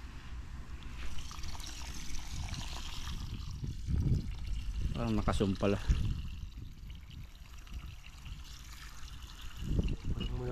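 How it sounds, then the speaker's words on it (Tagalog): Water poured into a cooking pot beside a river, a trickling, gurgling pour that rises and falls while people talk over it. "Lagyan natin ng tubig."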